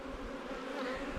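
Young honey bees buzz steadily on a hive frame, a close, dense drone with no pauses.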